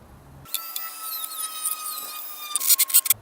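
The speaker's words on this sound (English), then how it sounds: "Dremel tool time" A Dremel rotary tool whines steadily at high pitch after a short quiet start, working on a plywood molding box, with a few sharper bursts of cutting or grinding toward the end; no talking.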